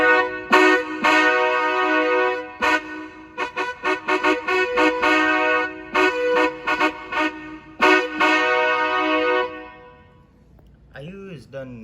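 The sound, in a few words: PVC train horn blowing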